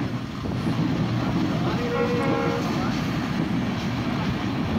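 A passenger train runs along curved rails, giving a steady, loud rumble with wind buffeting throughout and a brief squeal of wheels midway.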